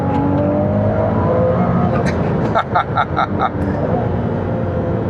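A Ferrari 296 GTB Assetto Fiorano pulls hard in third gear, its engine a loud, steady roar that holds throughout, with a few brief, brighter pulses near the middle.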